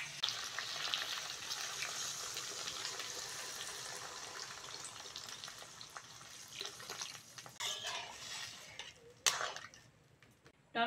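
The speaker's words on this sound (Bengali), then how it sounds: "এবার জল দিয়ে দেবো।" Water poured into a pan of winter vegetables frying in oil for a light rohu-style fish curry, giving a steady hissing sizzle with bubbling and splashing surges toward the end, moderately close and heard alone.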